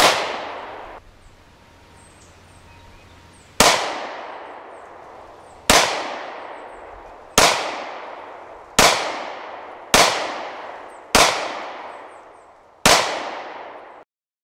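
Pistol gunshots at a shield shooting drill: seven loud, sharp reports fired at uneven intervals after a quiet start, each crack trailing into a short reverberant decay.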